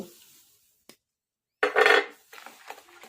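Semolina cake batter being stirred in a bowl with a utensil, a short burst of scraping and clinking against the bowl after a quiet pause, followed by lighter intermittent taps and scrapes.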